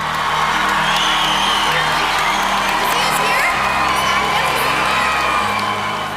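A large crowd at an event cheers and shouts continuously, with whoops and children's high voices mixed into a dense, loud roar that never lets up.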